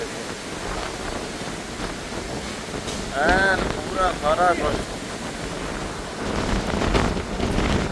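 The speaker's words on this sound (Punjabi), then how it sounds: "ਸਾਰੇ ਬਹੁਤ ਜ਼ਿਆਦਾ ਤੂਫਾਨ ਆ ਗਿਆ" Strong storm wind and rain roar steadily and loudly, buffeting the microphone and gusting harder toward the end, while people talk over it.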